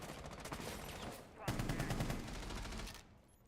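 Rapid bursts of automatic gunfire in the Rainbow Six Siege video game, dense rattling shots in two long volleys, fairly quiet with faint speech underneath.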